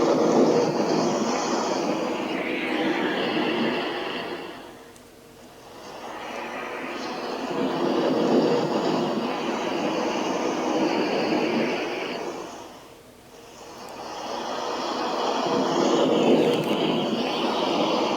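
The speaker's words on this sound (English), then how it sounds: "That was the sound of the ocean." Ocean surf from the sleep-sounds mode of a Raddy RE40 portable shortwave radio, a broad hiss of waves swelling and receding in slow cycles, played alone through the small speaker.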